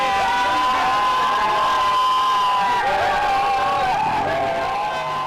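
A large crowd on the streets of Ahmedabad celebrates India's Champions Trophy 2025 cricket win with loud, continuous cheering, shouts and whoops close by, and voices calling out over the din.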